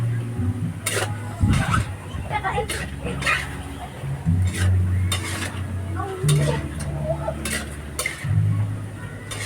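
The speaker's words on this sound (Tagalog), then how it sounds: "Ayan po, nagmamantika na po siya mga kaibigan. Ganyan lang po ang pagluluto ng daga." Rat adobo frying in oil in a pan, a soft steady sizzle under repeated clanks and scrapes of a utensil stirring against the metal, with a person talking throughout.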